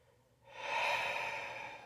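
Heavy, drawn-out exhalation from someone who smokes, rising sharply and holding as a long breathy rush, close to the mic, with no talking.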